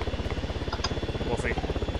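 Rapid rhythmic thumping of helicopter rotor blades in the video game Arma 3, steady and fairly close, with faint game sounds and a murmur of voices beneath.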